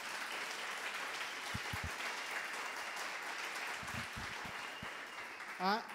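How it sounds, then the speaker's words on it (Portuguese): An audience at a design, leadership and innovation event applauds support staff, a fairly quiet, steady patter of clapping with a few low thumps and a brief tonal sound near the end. "Uma salva de palmas."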